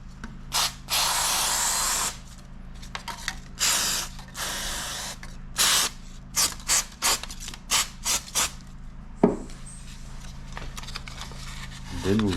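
Short hissing bursts of WD-40 multi-purpose lubricant spray onto 2000 grit sandpaper, repeated in quick irregular puffs, some longer and some brief, during a Honda VTR1000 crank repair, with faint handling noises between.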